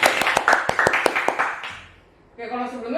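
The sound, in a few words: audience clapping for guest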